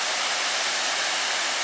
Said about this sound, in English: And this will be Overlook for Shining Cloud Falls, one of the more popular waterfalls in this park.